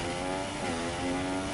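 Mechanical whir and rattle from a Logitech G27 racing wheel used with a PS4 Pro, a steady dense noise with faint tonal hum running continuously for a short moment, with no talking.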